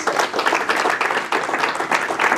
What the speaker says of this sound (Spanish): Dale un aplauso fuerte al Rey de Reyes.